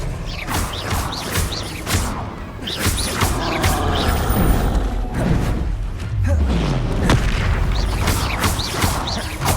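Blasting-spell explosions from the Hogwarts Legacy video game: repeated booming blasts and crashing thuds with whooshes and mechanical clatter, loud and dense throughout, with no talking.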